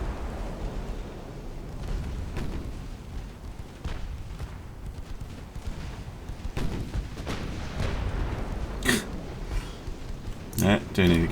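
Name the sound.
naval main guns firing in an 1890s ironclad video game battle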